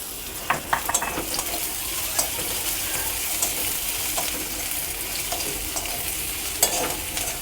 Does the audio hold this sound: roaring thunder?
no